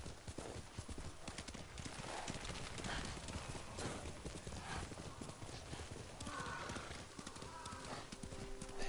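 Horse hooves clip-clop at a steady riding pace in the video game Ghost of Tsushima, with an occasional whinny over a continuous game soundscape while someone talks.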